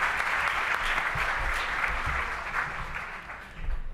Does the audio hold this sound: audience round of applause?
yes